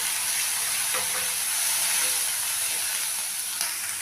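Spiced vegetable filling for veg rolls fries in a pan at home with chilli, coriander and garam masala powders, giving a steady close sizzle and hiss throughout with a few faint spoon scrapes.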